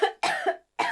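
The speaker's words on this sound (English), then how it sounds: "I can't stop coughing" A quick burst of three harsh coughs in a short fit, close and fairly loud, the middle one longest, with brief silences between them.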